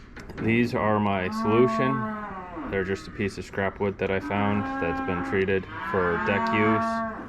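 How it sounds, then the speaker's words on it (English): Cattle on a farm low repeatedly in the background, begging for food, with several drawn-out moos running beneath continuous close talking. "You can hear the cows in the background."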